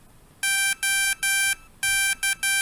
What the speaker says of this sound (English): The pump will make a series of beeps.